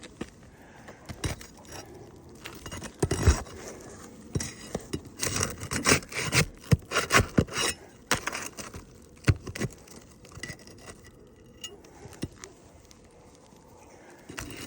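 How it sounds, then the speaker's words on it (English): An old roof shingle being pried loose, with irregular scraping, rubbing and rasping bursts, some sharp knocks, close and moderately loud, then a quieter stretch toward the end. "So that shingle should be able to get removed"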